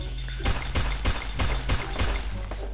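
A rapid string of about eight pistol shots in Free Fire, evenly spaced and punchy, firing one after another over a low background hum.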